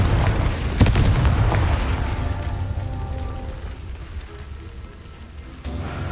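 A fiery Confringo explosion spell from Hogwarts Legacy bursts with a deep, heavy boom and sharp crack, then rumbles and crackles as it decays over several seconds.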